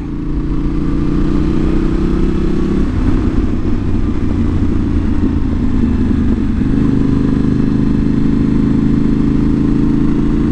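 A Yamaha Tenere 700 motorcycle with a modified stock exhaust idles and runs steadily up close, its loud, even engine note shifting pitch partway through and then settling again.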